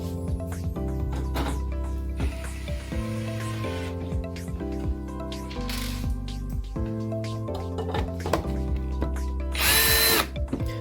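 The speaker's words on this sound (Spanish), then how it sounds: "Necesitamos atornillar el fondo con estas grapas que tiene el costado." A power drill drives screws through the bottom panel of an Atira 70 mm drawer, whirring in repeated short bursts of rising and falling pitch with clicks between them, close and loud.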